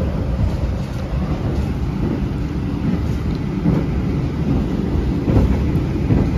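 Riding inside the KAI Taksaka train from Jakarta to Jogja: a steady, loud low rumble of the carriage rolling along the rails, with faint rhythmic clacks and no talk.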